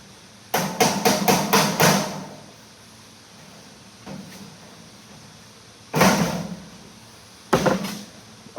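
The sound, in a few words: hammer tapping down sheet metal plenum seam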